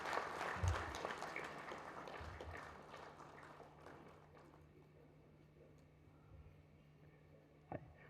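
An audience at a Hindi memorial lecture applauds. The clapping is faint and distant and tapers off gradually into a quiet room.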